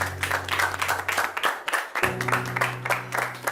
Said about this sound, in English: we have a winner, and that is Redeemers University at Osun State, Nigeria. A round of applause